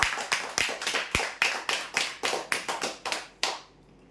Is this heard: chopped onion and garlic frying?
no